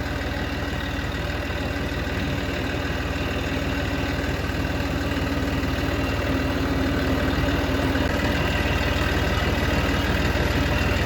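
A vehicle engine running steadily while driving over a teff grass hay field, a constant loud low drone with no breaks or voices.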